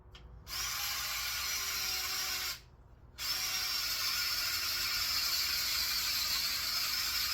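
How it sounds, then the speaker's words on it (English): A power drill whirs steadily and loudly, boring planting holes in clay soil, cutting out twice briefly before starting up again, with no talking. "this clay soil is why I'm drilling these holes"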